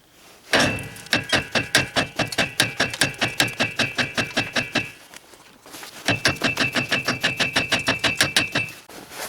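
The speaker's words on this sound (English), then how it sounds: "Now you want to tap on the side of the knuckle here with the hammer." A hammer taps on the side of the steering knuckle of a 2003 GMC Sierra or Chevrolet Silverado while the lower ball joints are being replaced. The strikes are close, rapid and evenly spaced, in two long bursts split by a short pause, with no voices.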